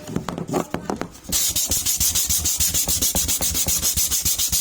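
Steady back-and-forth sanding strokes rasping on a surface, a quick rhythmic scrubbing that speeds up and continues evenly after a brief start.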